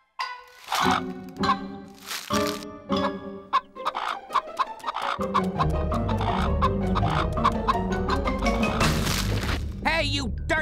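Cartoon chicken clucking and squawking in a Samurai Jack episode, bursts of fowl calls mixed with music, impacts and character voices.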